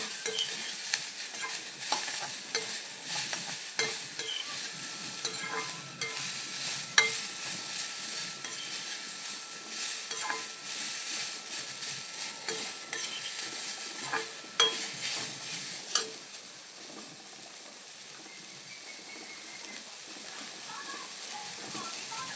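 Coconut pieces, green chili and onion fry in a little coconut oil over low heat, giving a soft, steady sizzle close by with occasional light scrapes of stirring.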